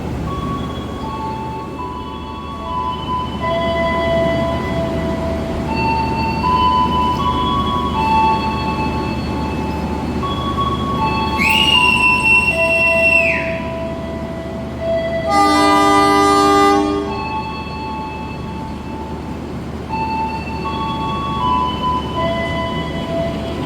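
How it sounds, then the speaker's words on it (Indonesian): Kaligung train locomotive shunting at a station, a long steady diesel rumble with two loud blasts of a multi-tone train horn in the middle, close and dominant. "Jadi kita nanti akan lihat proses langsir lokonya teman-teman."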